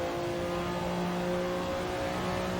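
Porsche 962C turbo racing engine in Assetto Corsa at Le Mans, a loud steady high-revving whine with a held pitch and constant intensity.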